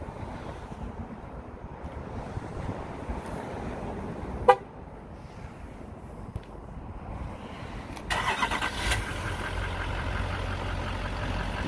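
A 2018 GMC 3500 Denali pickup with a Duramax diesel sits outdoors under a low wind-like rumble; a sharp click comes midway, then the engine fires and settles into a louder, steady idle for the last few seconds.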